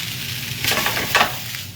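Greens stir-fried in a pan hiss and sizzle steadily, with two brief louder bursts of stirring or tossing, close by and alone with no voices.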